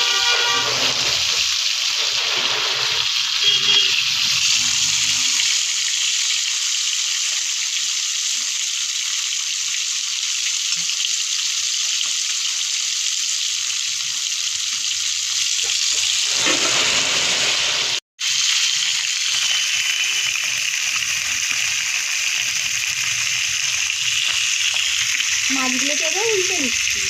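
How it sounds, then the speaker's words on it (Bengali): Tilapia fish fry one at a time in hot oil, making a loud, continuous sizzling hiss that runs without a break. There is a brief gap partway through, and a voice faintly enters near the end. "এবার এক এক করে ভেজে নিচ্ছি"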